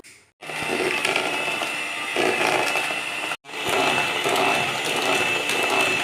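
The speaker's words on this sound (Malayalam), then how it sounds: "എന്നിട്ട് ബീറ്റ് ചെയ്ത് ബീറ്റ് ചെയ്യണം കേട്ടോ" Electric hand mixer beating butter and sugar for cupcake batter, a loud steady whirring buzz in two long stretches split by a brief stop, close and alone.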